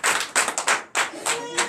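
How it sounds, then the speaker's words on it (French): A church congregation at a night deliverance and prophecy service claps in acclamation to Jesus, several loud bursts of group clapping with brief pauses between them, close and energetic. "Donnez l'acclamation à Jésus."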